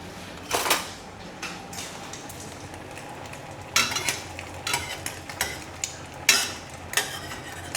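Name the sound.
egg frying in a hot pan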